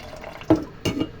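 Water splashing and dripping in a bowl while rice is washed, two distinct splashy pours about a third of a second apart over quiet background, close and fairly soft.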